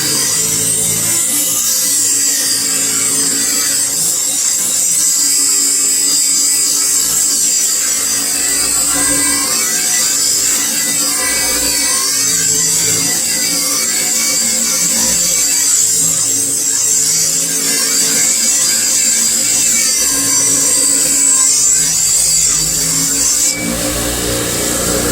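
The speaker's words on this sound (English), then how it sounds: "I'm running it like this on the wire wheel." A bench-mounted wire wheel whirs loudly and continuously for about 25 seconds while cleaning trim from a 1962 Mercury Comet, a steady high-pitched motor drone with shifting grinding texture and no talk.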